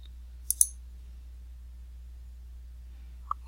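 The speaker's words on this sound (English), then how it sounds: "we click on cells A5, we're going to click on the sort button" A computer mouse clicks on spreadsheet cells and a sort button: a quick pair of crisp clicks early, then two faint clicks near the end, over near silence.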